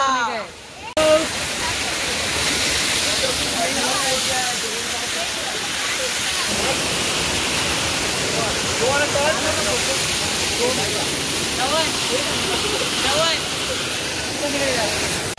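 Lalthane waterfall roars as a loud, steady, broadband rush of falling water, close by and continuous throughout, with no pauses and nothing rising above it.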